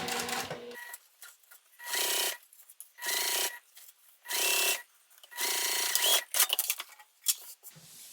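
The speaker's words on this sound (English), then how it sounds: "I'm just going to top stitch like we typically would" A sewing machine top stitching a fabric pouch, running in four or five steady bursts of a second or so, separated by short pauses with faint handling noises, close and clear.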